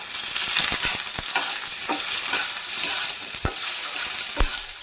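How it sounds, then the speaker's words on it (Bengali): Boiled potatoes frying in hot oil with panch phoron over medium-low gas, a steady sizzle broken by clicks and scrapes of stirring, close and without talking. "5 ফোড়ন একটু ভাজা ভাজা হয়ে গেছে, তাই দিয়ে দিলাম আলু।"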